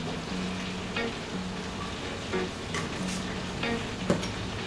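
Cooking ingredients for crispy pata being mixed with sugar and black pepper, a soft steady stirring texture with faint scraping and occasional small clinks throughout.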